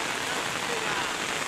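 Heavy monsoon rain pours steadily onto concrete roads and brick surfaces, a dense, continuous hiss that stays loud and even throughout with no let-up.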